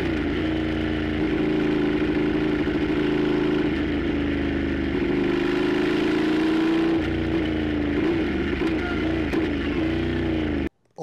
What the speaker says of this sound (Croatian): stavit ćemo ga na motor da se bolje čuje zvuk motora